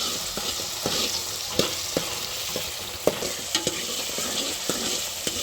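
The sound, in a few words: onion, tomato and chili being stirred and frying on low gas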